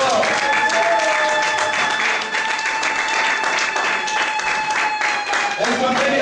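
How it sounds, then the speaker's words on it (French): Church congregation applauding and cheering loudly for the Lord during a French-language worship service, dense sustained clapping with raised voices and shouts blended throughout, steady and close from start to finish. "Est-ce qu'on peut acclamer le Seigneur très fort?"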